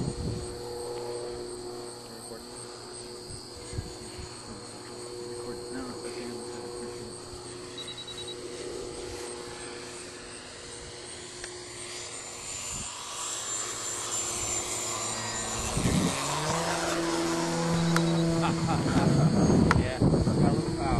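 An electric RC airplane, the Extreme Flight 88-inch Edge 540T, climbs at full throttle with a steady propeller whine. The drone swells and rises in pitch toward the end as the power comes fully on.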